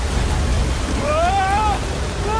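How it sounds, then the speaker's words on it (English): Rushing waterfall in the Uncharted 4 video game, a loud, continuous broad roar of falling water with a character's shout rising over it partway through. "Waterfall! Waterfall!"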